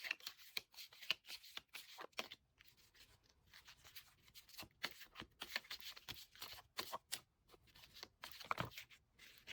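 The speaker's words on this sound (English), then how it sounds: "we'll shuffle for the spirit card first" Tarot cards being shuffled for a love-reading spread with a crystal nearby, heard as a run of quick papery riffles and soft rubbing taps, close and quiet, with no talking.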